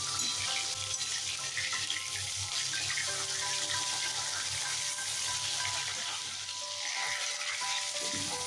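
Hilsa fish heads coated in salt and turmeric fry in hot oil with a steady, dense sizzle and bubbling that holds for several seconds, close and fairly loud, with no talking.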